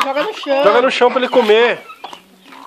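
Chickens and a rooster being fed on a farm, with loud clucking and crowing-like calls close by, overlapping with people talking.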